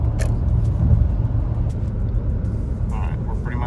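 A Cadillac Escalade Platinum cruises on a highway at about 78 mph, filling the cabin with a steady low road and wind rumble, while someone talks briefly over it.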